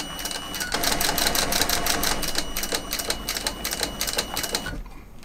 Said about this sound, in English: The machine I'm using, it's like a medium duty leather sewing machine